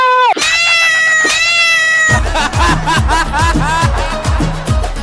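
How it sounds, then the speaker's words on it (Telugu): A cat gives a couple of loud, drawn-out meows up close, then more meowing continues over a rhythmic background with voices. "ఏందయ్యా ఇదే? పిల్లి"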